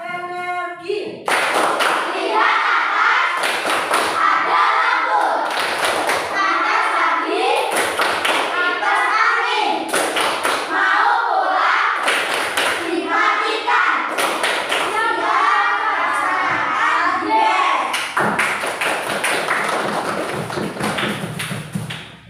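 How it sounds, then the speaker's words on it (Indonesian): A classroom of children performs a rhythmic energy-saving clap routine, bursts of hand claps and thumps repeating in patterned groups while the kids chant along in unison. "Tepuk hemat energi."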